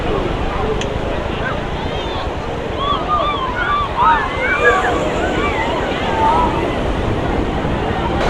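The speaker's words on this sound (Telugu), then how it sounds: "కెరటాలు కూడా చాలా హెవీగా వస్తున్నాయి." Heavy sea waves surge and break at Perupalem beach on the Bay of Bengal, a loud, constant roar of surf with gusts of wind buffeting the microphone.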